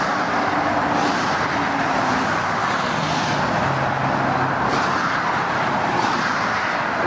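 Constant motorway traffic near the M4 drones loudly, car tyres and engines blending into a continuous roar with occasional vehicles swelling as they pass.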